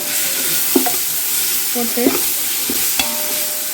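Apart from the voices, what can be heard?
ginger garlic paste sautéing with onions in pan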